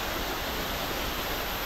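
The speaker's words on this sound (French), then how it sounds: "avec la cascade, la petite cascade" A small waterfall pours into a little lake, giving a steady, dense rushing wash of water that stays even and unbroken throughout, fairly close and with no voices.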